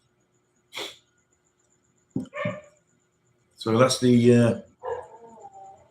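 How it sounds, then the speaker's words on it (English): A neighbour's dog, waiting to be taken for its walk, gives several short barks and yelps in separate bursts, one longer and louder, in the early morning in the Philippines, while someone speaks nearby. "neighbour's dog there, waiting to go out"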